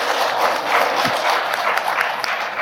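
An audience applauds at a book concert featuring a priest's talk on family and relationships, producing a brief burst of dense, fairly close clapping with no talking.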